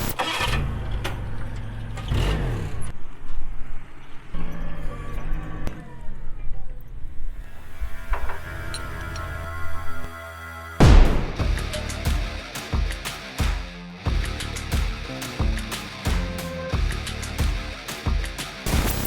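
A 2021-or-later Ford Bronco starts up and revs while dragging a load down a road on paracord. Loud engine bursts rise and fall, with a brief lull near the middle before the revving resumes strongly.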